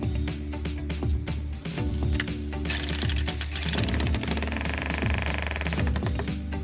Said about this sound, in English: we place the fixings into the wheel stop and fasten them using a jackhammer